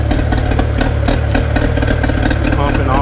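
A loud Mercury outboard motor on an Alumacraft 1542 boat runs steadily nearby with a rattling, chugging drone that stays constant throughout.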